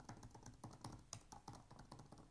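Close-up typing on a 2018 MacBook Pro keyboard gives a soft, steady patter of keystrokes, quieter than louder keyboards, with no one talking.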